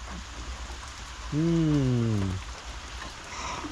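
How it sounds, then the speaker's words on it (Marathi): Steady rain hisses throughout, a constant wash of noise. Midway, a brief falling voice-like tone cuts in for about a second. "आज लय पावसाने राडा केला हो"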